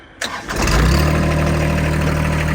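A John Deere 25 hp compact tractor engine cranks briefly and catches, settling into a steady, loud, close idle that runs on without pause.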